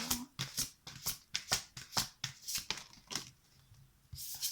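A tarot card is drawn and shuffled from a deck, giving a series of quick, crisp papery swishes and flicks in an uneven rhythm, close and fairly quiet with no voice.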